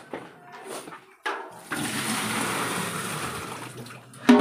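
Water pours steadily into a Sharp twin tub washing machine, a broad rushing hiss that starts after a brief pause and holds close and fairly loud to the end.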